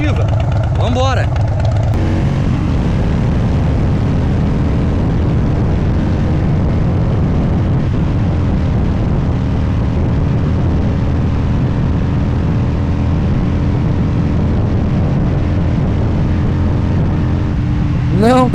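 A used Harley-Davidson Dyna motorcycle at high speed in fourth gear rumbles steadily and loudly under heavy wind buffeting, with a rider's voice at the start and end.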